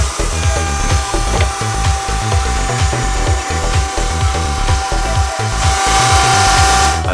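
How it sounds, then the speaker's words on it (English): A router cutting a dado groove in wood, a loud, steady high-pitched motor whine with continuous rough cutting noise throughout, close up and without talk. "So let's do this on the router."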